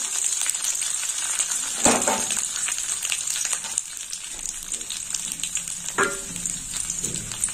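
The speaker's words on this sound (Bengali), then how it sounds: "ফোড়নটা একটু ভাজা হবে।" Whole garam masala and bay leaves sizzle steadily in hot oil in a pan, close up, with a couple of sharp clinks from stirring.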